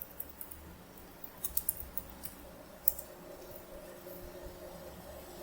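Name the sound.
typing on a computer keyboard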